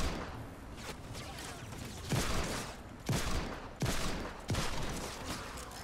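Hand cannon shots fired in the Fortnite video game, four loud, sharp blasts spaced about a second apart over a low background of game ambience.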